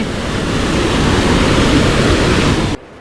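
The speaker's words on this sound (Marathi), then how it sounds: "जो काय धबधबा दिसत होता तो एकदम रौद्र आणि भयंकर होता" Loud, continuous roar of a stream flooded by torrential rain pouring over a waterfall, dense and unbroken, cutting off abruptly near the end.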